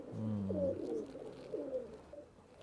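A pigeon of an old traditional breed coos nearby, two or three soft, rolling low calls in quick succession that fade out toward the end.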